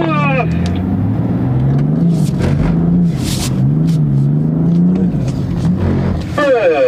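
A BMW M4 on the Bilster Berg race track launches at full throttle, its engine roaring loud and near as revs climb and shift in repeated surges, with a voice speaking over it at the start and end.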